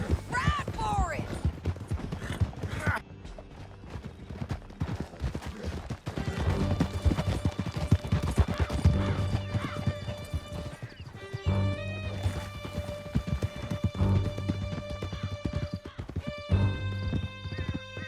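A horse galloping in Red Dead Redemption 2, its rhythmic hoofbeats drumming steadily over a rough canyon trail with a whinny near the start, mixed with music, scattered distant gunshots and some voices.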